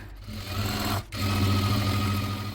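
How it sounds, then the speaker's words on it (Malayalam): An electric sewing machine stitches a canvas bag with a close, steady, rapid whirring hum. It pauses briefly partway through, then resumes at the same pace. "അതുപോലെ തന്നെ ഈ ഒരു ഭാഗവും ഇവിടെ തയ്ച്ച് പിടിപ്പിക്കുക."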